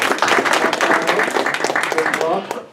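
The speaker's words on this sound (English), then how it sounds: "So let's give a big round of applause for Atif" An audience at a Blockchain U talk applauds the speaker, a brief burst of clapping from the room that rises quickly and fades near the end, with talking audible alongside.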